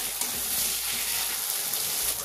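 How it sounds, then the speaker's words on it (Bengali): Ginger, garlic and tomato fry in a pan while preparing a lote fish jhuri, giving a steady, close broadband sizzle with faint stirring scrapes and no talk. "আদা রসুন আর টমেটোটা ভালো করে ভাজা হয়ে গেছে"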